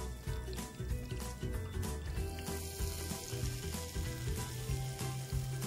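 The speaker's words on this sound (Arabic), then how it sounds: "شايفين بنزل في الزيت السخن قوي" Dough frying in very hot oil, a steady crackling sizzle with bubbling pops, close and constant throughout with no talk.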